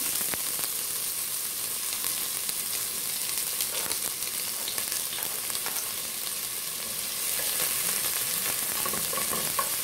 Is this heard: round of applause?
no